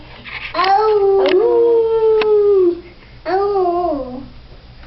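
A young child imitates a wolf howl with a few long, wavering, rising and falling vocal cries, close and fairly loud, with a short pause between calls.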